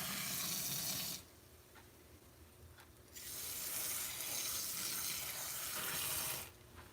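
Water pours from a faucet or spout while indoor plants are being watered, a steady rushing stream that runs about a second, stops, then resumes for several seconds before cutting off again, close by with no talking.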